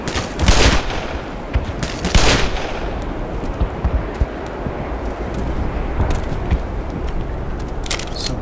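Gunfire in the video game Half-Life Black Mesa: two loud, sharp bursts of shots early on, then quieter scattered pops and rumbling battle noise that continues without talk.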